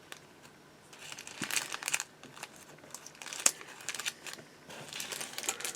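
Plastic resealable bag being handled while unboxing a 1/35 scale Tiger I tank model kit, giving a close, irregular crinkling with sharper bursts, quiet and without any talk.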